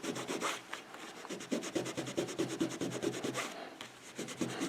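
Canvas burnishing pad rubbed briskly over leather while shaping rune stones, making a steady run of quick, close scratchy rubbing strokes in an even rhythm, with a brief pause near the end before the strokes resume.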